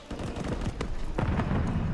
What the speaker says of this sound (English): A lot of gunfire rattling across Invasion right now